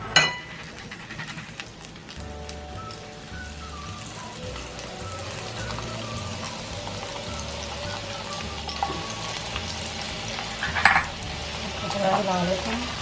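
Masoor dal lentils frying in hot oil for homemade nimko, a steady bubbling sizzle with occasional stirring clinks, continuous and close throughout.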